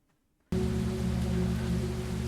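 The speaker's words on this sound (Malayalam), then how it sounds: "നല്ല മഴയാന്ന് തോന്നുന്നു." Steady heavy rain in the video game Tales Beyond the Tomb, Pineville night scene, switching on abruptly after a half-second of near silence and holding as a loud, dense, even downpour with no voices.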